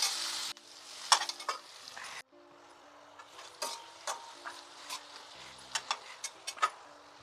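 Egg curry with eggplant, tomato and drumstick sits in a pan, giving a soft sizzle with clusters of sharp ticking clicks and spoon taps, close and fairly quiet, with a brief louder sizzle at the start.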